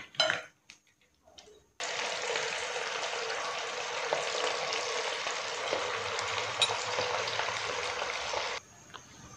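Chicken pieces frying in oil for chicken manchurian: after a few faint knocks, a loud, steady, close sizzle starts abruptly and runs unbroken for several seconds before dropping away.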